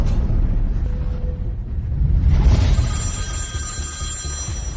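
A telephone bell rings in a steady high-pitched trill over a dense low rumble, the ringing starting partway through and continuing to the end.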